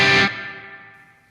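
Plate reverb from a Tascam Model 12 mixer: a loud, bright burst stops abruptly and leaves a long, smooth, shimmering tail that fades steadily away.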